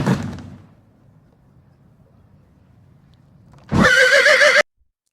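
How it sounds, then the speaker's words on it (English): A farm horse gives one loud, bright whinny of under a second, standing alone after a brief fading thump and a near-silent pause. "Look, this is a horse."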